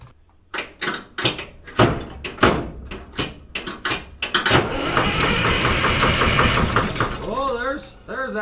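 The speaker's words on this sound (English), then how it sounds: "I switched the controls and it spins over a heck of a lot faster and the bucket starts to go up" An old Allis Chalmers track loader, left sitting for many years, has its engine cranking over in a rapid rhythmic churning. Someone talks over it as it spins faster, close and loud.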